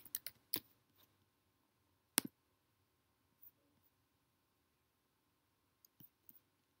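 A few scattered, quiet clicks of computer keyboard keys being pressed in Excel, sparse and irregular, with long silent gaps between small bursts.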